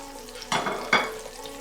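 Garlic dropped into a hot pan for chicken drumstick adobo, giving two brief sizzling bursts about half a second apart over a low background hiss.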